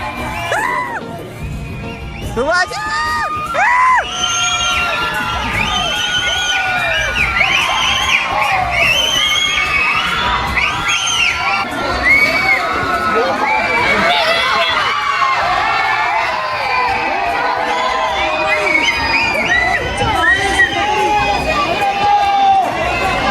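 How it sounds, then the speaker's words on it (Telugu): A large crowd of tourists shouting, cheering and whooping at a misty hilltop viewpoint at the Kodaikanal cave, many voices overlapping loudly and steadily throughout, with excited cries rising above the din. "అందరూ అయితే అరుస్తున్నారు సుభాష్ అని"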